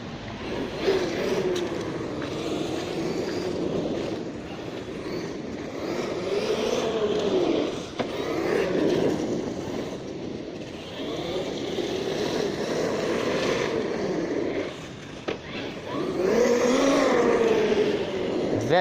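A Hobao Hyper MT Sport Plus RC monster truck drives continuously with a steady, loud motor whine that rises and falls in pitch as it accelerates and turns, running alone without voices.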